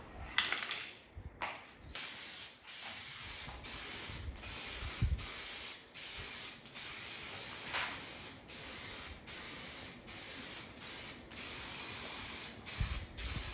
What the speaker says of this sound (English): I'm going to start first with just giving this a coat of primer